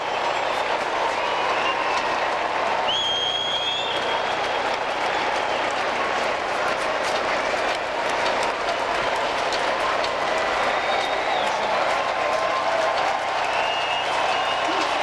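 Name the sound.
baseball stadium crowd applauding and cheering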